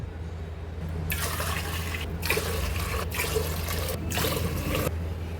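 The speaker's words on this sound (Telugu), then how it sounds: "ఇప్పుడు ఏ గ్లాస్తో అయితే రైస్ తీసుకున్నామో అదే గ్లాస్తో 5 గ్లాసులు వాటర్ వేసుకోవాలి." Glassfuls of water are poured into a pressure cooker pot for rice papad dough, heard as a few separate splashing pours with short pauses between them, close and fairly loud, with no talking.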